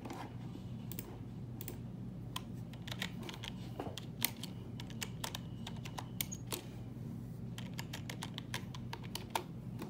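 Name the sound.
typing on a computer keyboard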